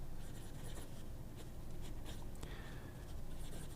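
A fountain pen with a broad steel Aurora No. 5 nib scratches across Crena paper, a faint, continuous dry scraping with small strokes, close and quiet against a low background hum.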